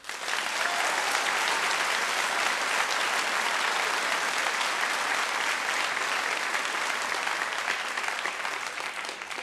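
A theatre audience applauds steadily at a staged French comedy performance, a dense, continuous wash of many hands clapping that holds loud and even throughout before easing slightly at the end.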